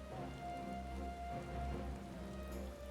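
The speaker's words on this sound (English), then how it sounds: "Rainy Doma." Soft, steady rain patters in Doma in Final Fantasy XIV, a faint continuous wash with a low ambient hum beneath, no voices.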